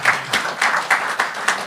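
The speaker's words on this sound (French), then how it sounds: "Et gardez vos applaudissements pour Heidi Richard!" Audience applause at a comedy show, a steady burst of clapping from the crowd with rhythmic peaks, fairly close and loud, lasting under two seconds.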